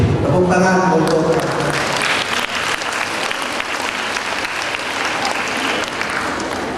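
Applause fills a seminar hall at the Salman Mosque, a dense, steady wash of many hands clapping throughout, with voices audible at the start.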